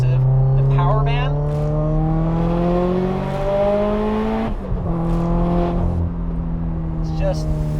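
A 730whp Subaru STI engine accelerates hard from inside the car, its pitch climbing steadily through the gears with a brief dip at a shift before it pulls and rises again, loud and close.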